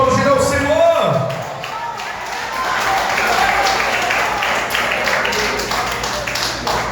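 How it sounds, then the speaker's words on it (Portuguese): A church congregation applauds during a Sunday service, a broad wash of clapping rising after a fading musical tone, with voices and talk mixed in beneath the steady applause. "Vamos aplaudir ao Senhor."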